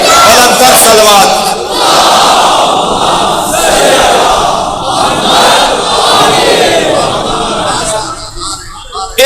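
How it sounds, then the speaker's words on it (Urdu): A large religious gathering chants in unison, a loud, dense crowd roar of massed voices reciting salawat that fills the space for several seconds before tapering near the end. "بلند صلوات."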